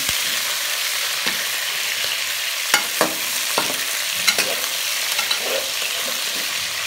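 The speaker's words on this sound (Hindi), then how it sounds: "अब इसको हमने करना है ब्राउन, इसको फ्राइड।" Chicken frying and being stirred in a pan, a steady close sizzle with scattered scraping clicks of the spoon against the pan throughout.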